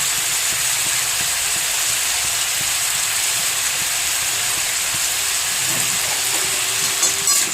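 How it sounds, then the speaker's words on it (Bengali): Potatoes frying in oil with Kashmiri chilli powder and salt for aloo chochchori, giving a loud, continuous hissing sizzle that holds steady throughout, close up, with no talking. "এটাকে ভালো করে ভেজে নেবো।"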